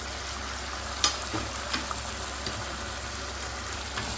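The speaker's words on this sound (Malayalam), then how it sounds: "ഇളക്കി യോജിപ്പിച്ച്" Chicken curry with coconut pieces, coriander and curry leaves being stirred in a pan, a steady sizzling hiss with a few soft scrapes of the spoon, fairly close and without talk.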